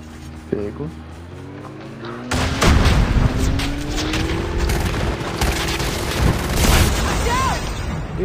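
A loud video game explosion booms and rumbles, followed by scattered blasts and gunfire, with voices talking over the din.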